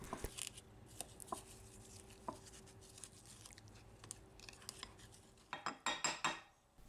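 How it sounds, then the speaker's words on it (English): Softened butter is mixed with ground sage, rosemary and thyme in a bowl as herb butter for a turkey. Faint, quiet utensil taps and scrapes are scattered throughout, then a cluster of louder clinks comes near the end. "we prepare a simple herb butter for the turkey by mixing together a little ground sage, rosemary, and thyme with a stick of softened butter"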